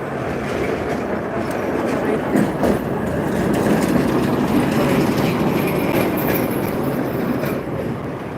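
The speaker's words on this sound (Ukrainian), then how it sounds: "трамвайчики, хто не бачив трамвайчики" A tram rolls past on rails with a steady, loud rumble and faint clatter of wheels, continuous throughout with street noise around it.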